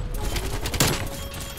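Rapid gunfire crackles in Call of Duty Black Ops Cold War, a short burst of fast shots peaking in one sharp crack at mid-clip over a busy game soundscape.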